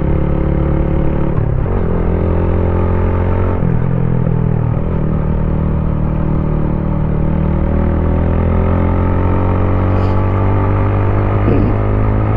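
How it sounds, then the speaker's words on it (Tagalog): A stock Motorstar Cafe 150 motorcycle with its unmodified exhaust runs steadily and close by, a continuous mid-pitched engine drone with small shifts in revs and a few clattering bumps, no voices over it. "So hopefully naririnig nyo yung actual na tunog ng motor, no?"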